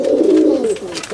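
Pigeons in a loft give a loud, close, drawn-out coo that trails off, with faint rustling behind it.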